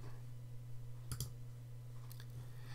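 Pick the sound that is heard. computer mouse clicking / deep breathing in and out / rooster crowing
computer mouse clicking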